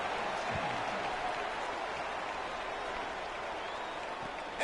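A football stadium crowd at a college game roars and cheers after a special teams score, a broad, steady wall of applause and crowd noise that holds throughout.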